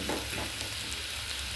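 Chicken pieces frying in oil in a pan, a continuous soft sizzle and crackle close by, fairly quiet and without talk.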